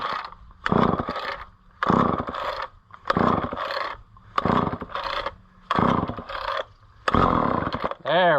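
A repaired Homelite Super XL chainsaw, bought at auction and running with a weak oiler, cuts through wood in loud, close bursts of about a second each, separated by brief idle dips. A voice is heard briefly at the end.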